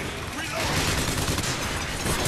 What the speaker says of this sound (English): Stop fucking shooting that thing!